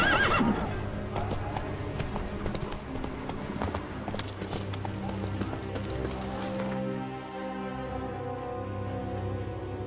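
A horse gallops with rapid clip-clop hooves and neighs near the start in The Witcher 3 video game, loud over game music, the hoofbeats fading toward the end.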